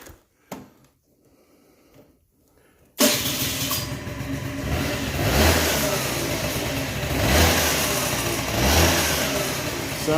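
After a few seconds of near silence with faint clicks, a 1987 Honda Elite 50S scooter engine with a newly replaced and cleaned fuel system kicks in loudly and revs up and down in several swelling bursts, close by.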